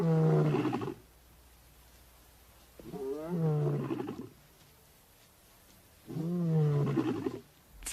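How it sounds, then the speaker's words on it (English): Recorded lion roars played from a vehicle in the Botswana bush, three long, loud, deep roaring calls separated by pauses of near silence. "Finally, he realizes that the roars are coming from the vehicle."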